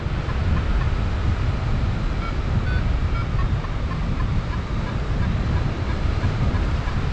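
Northerly wind buffets a mountain top at 3,200 meters on the Côte Long, a steady loud roar of rumbling gusts filling the whole stretch with no let-up.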